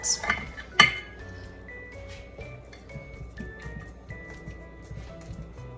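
A warm steamed potato being cut on a plate, with clinks and scrapes of cutlery against the dish, a few sharp taps early then lighter scraping.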